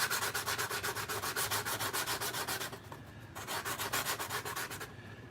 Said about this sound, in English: when you're sanding these flat surfaces, and you put your file, sanding block, whatever